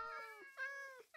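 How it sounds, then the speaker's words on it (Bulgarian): Cats in Minecraft meowing, a couple of clear, tonal in-game meows close up, with no talk over them. "Много различни котки има, виждате."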